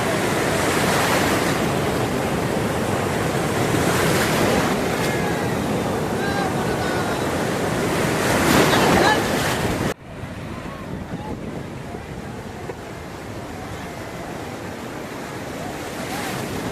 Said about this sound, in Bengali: এই রকম লেভেলের ঢেউ শুধুমাত্র পুরীতেই দেখা যায়।